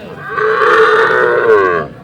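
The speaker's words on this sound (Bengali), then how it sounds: "এটা বাছুর" A calf at a cattle market gives a single loud, drawn-out moo that lasts nearly two seconds. It is close and clear, with little background noise.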